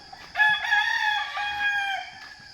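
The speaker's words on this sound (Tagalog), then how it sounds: "Daming manok dito guys." A rooster crows loudly and close by in one long drawn-out call, with faint clucking from other chickens at the edges.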